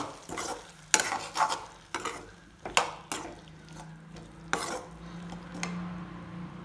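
Ivy gourd (kundru) frying with masala in a pan, a low sizzle under repeated spoon scrapes and clinks against the metal, uneven strokes roughly every second, close up and without speech.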